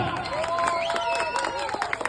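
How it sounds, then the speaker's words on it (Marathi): An audience at a Navratri event clapping and cheering, a brief burst of close applause mixed with a voice and crowd noise. "आता आपल्या आई वडिलांसाठी टाळ्या मारा जोरदार"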